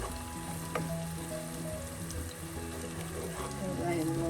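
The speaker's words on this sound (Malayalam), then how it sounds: "ഈ ഓയിലൊന്ന് ചെറുതായി ഒന്ന് മൂപ്പിച്ചാൽ മതി." Ground spice powder frying in hot oil in a pan for a white tuna pepper curry, a steady close sizzle running throughout with a faint clink or two.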